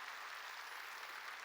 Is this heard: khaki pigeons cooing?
no